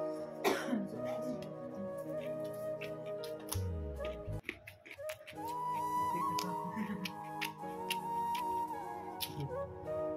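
A girl coughs several times with throat clearing during a home meal, in short harsh bursts close to the microphone, mixed with light clicks and background household sounds; people talk nearby.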